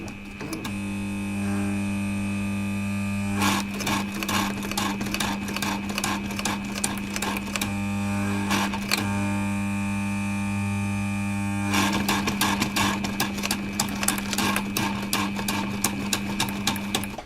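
Pfaff 1222E sewing machine stitching through leather, a continuous close motor hum with rapid rhythmic needle clatter, pausing briefly a few times before resuming, no talking.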